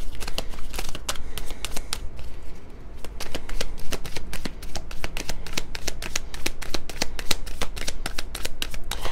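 Tarot cards being shuffled in a steady run of quick crisp riffles and slaps, close and fairly loud, with a brief quieter pause early on and no talking.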